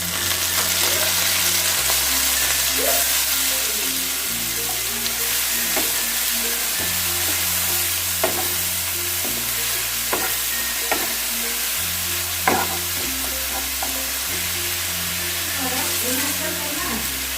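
Onion paste goes into a pan of already-fried onion for a Bengali boal fish kalia, giving a steady sizzle with intermittent spoon stirring and scraping; a steady hum runs underneath throughout.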